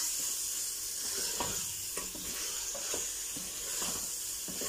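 Cumin seeds sizzle in hot oil with a constant bright hiss, broken by soft stirring scrapes at a regular pace.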